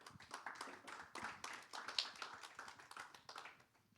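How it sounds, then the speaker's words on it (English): An audience at a workshop roundtable applauds, a faint, steady patter of many hands clapping that tapers off over about four seconds. "Round of applause as well."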